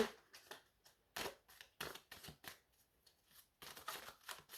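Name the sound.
shuffling tarot cards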